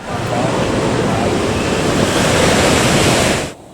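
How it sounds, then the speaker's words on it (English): Ocean waves breaking steadily on a South Atlantic beach, a loud, continuous roar of surf with wind, running unbroken for about three and a half seconds before cutting off abruptly. "The waves are amazing, but beware of the undertow."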